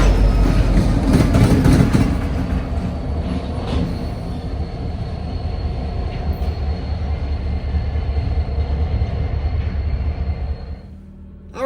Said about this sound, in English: This intermodal train's currently working the yard